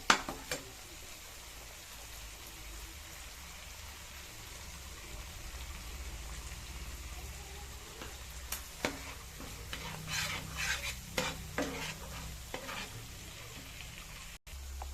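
Masala for mustard pabda fish sautéing lightly in a pan, a faint, even sizzle with scattered spoon scrapes and taps that grow busier toward the end.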